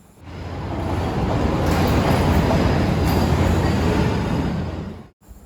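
A train at Colombo Fort railway station in Sri Lanka, heard as a loud, steady rumble and broadband roar that swells in over several seconds, holds, then cuts off abruptly near the end.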